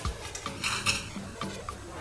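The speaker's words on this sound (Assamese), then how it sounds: "এতিয়া মিডিয়াম ফ্লেমত মছলাখিনি শুকানে মই ভাজি ল'ম।" Metal utensil scraping and clinking against a pan as cumin, coriander, fennel seeds and dried red chillies are stirred and toasted over medium flame, with short rhythmic scrapes and a light rattle, close by.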